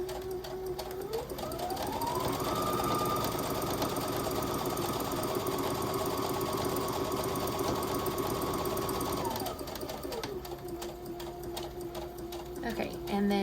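A sewing machine runs steadily for about eight seconds, stitching a gathering line on a pair of breezy shorts, with a rising motor whine that holds and then winds down. Someone talks over the stitching.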